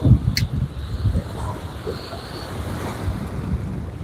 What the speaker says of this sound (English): We wouldn't have all these waves breaking right here at the bank.